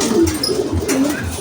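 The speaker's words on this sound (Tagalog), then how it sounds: "sobrang daming ibon talaga ng idol natin" Pigeons coo steadily inside a crowded pigeon loft, a soft, repeated low cooing rhythm from several birds close by, with no talking.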